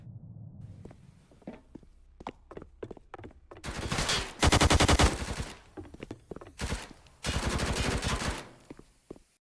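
Gunfire in a competitive tactical shooter match during a 1v1 round: scattered single shots and footsteps give way to loud sustained automatic bursts, then a final long volley that fades out.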